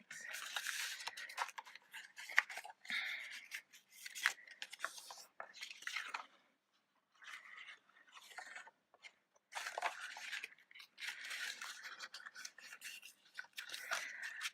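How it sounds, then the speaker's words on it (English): Scored cardstock for a Cricut-cut paper frame is folded by hand along its score lines, giving close, crisp rustling and creasing scrapes in short bursts with brief pauses between them. "fold along all of those score lines"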